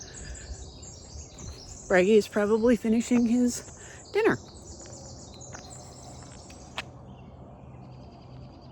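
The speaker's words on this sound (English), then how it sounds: "You hear the beautiful birds." Birds singing outdoors around a farm pen in the morning, steady high chirps and trills in the background, with insects buzzing faintly and someone speaking briefly over them.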